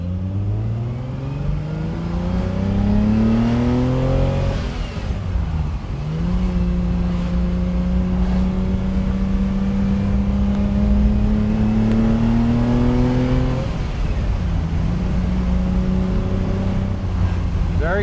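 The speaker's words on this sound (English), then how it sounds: "we will rev it out a bit on the farm road on the way back to the dealership" A 1967 Ferrari 330 GTC revs hard on a farm road, its engine note climbing in pitch through repeated pulls, dropping back between gear changes and rising again, loud and close throughout.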